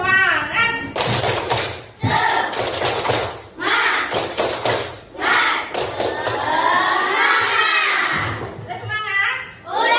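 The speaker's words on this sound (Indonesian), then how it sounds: "Baik, kita tepuk semangat dulu yuk." Schoolchildren and their teacher in an Indonesian classroom perform a rhythmic spirit clap, bursts of clapping and thumps in a patterned beat mixed with loud children's chanting voices throughout.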